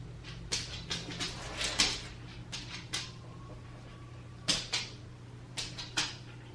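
A dog shifts around a room, producing a string of scuffs, thumps and knocks at irregular intervals, with a faint thin whimper in the middle; the sounds are close and moderately loud.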